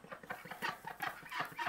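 Soft, rhythmic clucking and quacking from farm ducks in their pen during morning chores, a close run of short calls repeating every fraction of a second.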